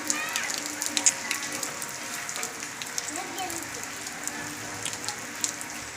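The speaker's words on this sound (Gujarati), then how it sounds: "તો તમે જોઈ શકો છો ધીમો ધીમો વરસાદ જોવા, ધીમા ધીમા પાણી પડે છે।" Light rain patters steadily outdoors, a soft continuous hiss of fine drops with faint scattered taps, heard alone without talk.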